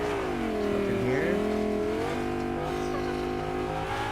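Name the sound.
car engine approaching in the video game Fortnite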